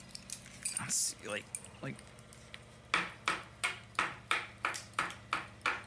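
Metallic clanking from a construction site across the street, a series of regular sharp strikes at moderate distance, with a few spoken words over the start.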